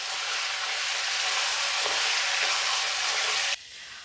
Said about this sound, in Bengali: এবার একটা স্প্যাচুলার সাহায্যে জলপাইটাকে তেলের মধ্যে একটু নেড়েচেড়ে নিতে হবে।